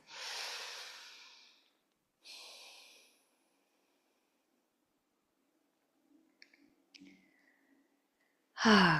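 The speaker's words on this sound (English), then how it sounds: "Take a couple breaths here." Deep breathing during a yoga practice: two long, airy breaths close to the microphone, a pause with a few faint rustles, then a sharp new breath at the end.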